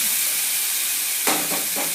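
Tomatoes sauté in a pan for a vegetable egg tomato gravy, giving a steady close sizzle and hiss, with a brief louder burst of stirring near the end.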